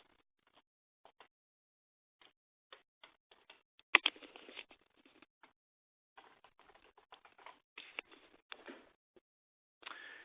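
Computer keyboard keys clatter in short bursts and scattered single taps, close and fairly quiet, with a denser run of rapid typing in the middle and no speech.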